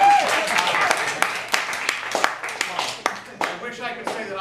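Applause from an audience at a Roots clothing company 40th anniversary event, a dense, steady wash of many hands clapping with sharper individual claps poking through and a voice faintly underneath.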